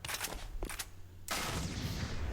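Gunfire in Metal Gear Solid: The Twin Snakes, a few sharp shots in the opening second, then a louder, sustained burst of noisy crackling fire that runs to the end.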